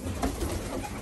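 Young pigeons cooing in a loft, soft muffled coos blending into a dense, close flock murmur with no talk.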